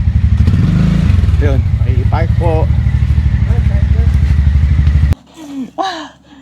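A heavy motorcycle on a Marinduque loop ride idles loudly and steadily for about five seconds while people talk over it, then the engine cuts off abruptly and only faint talk remains.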